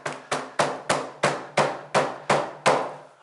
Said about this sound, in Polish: Młotka gumowego możemy użyć.